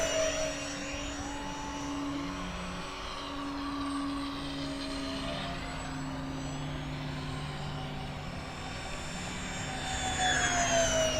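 An E-flite A-10 Thunderbolt II model jet with twin 64mm electric ducted fans makes a loud, steady whine with tones that rise and fall as it passes overhead. The whine sits over a constant airy roar and swells again near the end.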